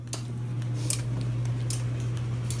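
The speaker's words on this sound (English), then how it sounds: "it's making lots of clicking noises. A click just means that the kiln is changing temperature." An electric Skutt kiln heating up for a bisque firing gives off scattered sharp clicks over a steady low electrical hum and a vent's whir.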